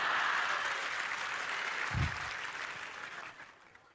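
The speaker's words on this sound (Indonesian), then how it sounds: "Kalau mau tepuk tangan, kalau ragu nggak usah." An audience at an Indonesian Islamic sermon claps together: a full, steady round of applause that slowly fades out over a few seconds, with one dull thump partway through.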